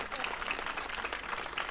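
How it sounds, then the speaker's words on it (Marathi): Crowd applause at a political rally for a minister in Sawantwadi: dense, steady clapping from many people, moderately distant, filling the whole moment. "होऊन द्या टाळ्या जोरात."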